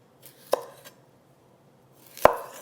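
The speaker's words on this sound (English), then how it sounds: "And then we'll take our radishes and slice those." A knife slices through radishes on a cutting board for a squash salad: two sharp, close chopping strikes about two seconds apart, with a short crunch after each, in an otherwise quiet kitchen.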